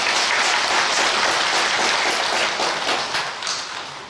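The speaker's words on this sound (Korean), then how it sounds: "다시 한번 박수해 주시기 바랍니다" Church congregation clapping together after a prayer in a worship service, a broad, sustained wash of applause from many hands that holds steady and then tapers off slightly toward the end.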